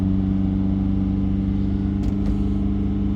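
A Mini engine holds steady revs near 3000 RPM, a loud, continuous mid-pitched hum with strong harmonic drone, close by and without speech.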